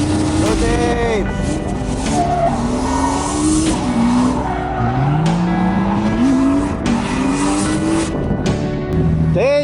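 A Lexus GS drifts around Apple Valley Speedway with long, loud, wavering tire squeals over a revving engine, close and continuous, while people talk nearby.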